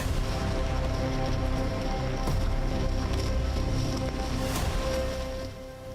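Steady rain patters densely on surfaces nearby, a constant hiss with scattered drops, fading slightly at the end.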